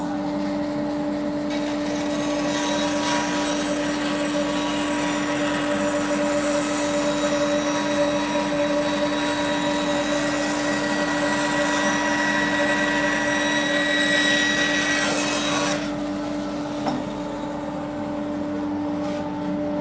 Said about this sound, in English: I'll just turn on the dust extractor.